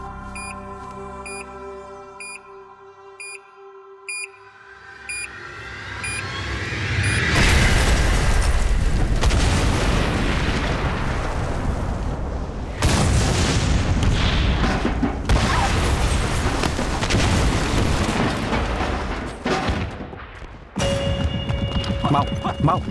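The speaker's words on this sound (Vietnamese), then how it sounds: "Bên kia, vụ nổ hướng kia." A loud explosion in a Chinese crime drama, with heavy booming and crashing debris filling most of the stretch after a quieter opening with music, followed by further rumbling bursts.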